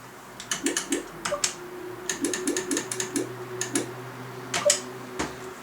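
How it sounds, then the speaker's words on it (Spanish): Keys clacking on TheC64 Maxi, a full-size Commodore 64-style retro keyboard, in short irregular bursts of sharp clicks, fairly close and clear, with no talking. "Teclado, funcional para jugar, funcional para escribir"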